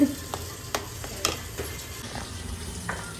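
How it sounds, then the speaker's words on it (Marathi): Puran, a sweet lentil filling, being stirred and sautéed in a pan, a soft steady sizzle with a few distinct scraping strokes of a spoon, nearby and fairly quiet, without talk. "तर इकडे मी परतते पुरण"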